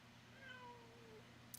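A house cat gives a single drawn-out meow that slides downward in pitch, faint and close in a quiet room.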